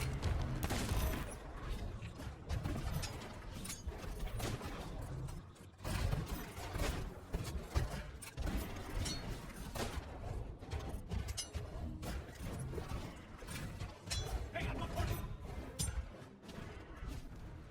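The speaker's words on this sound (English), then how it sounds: "I'm just going to chuck another firebomb at him, just to put him on fire, spread that fire around a little bit more" Sea of Thieves battle against phantoms with firebombs thrown and shattering, a dense, loud and continuous wash of crashes, bursts and combat noise with no clear pauses.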